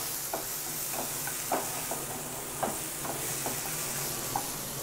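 Mushroom curry cooks in a pan with a constant sizzling hiss, punctuated by a series of soft scraping stirs at an irregular rhythm.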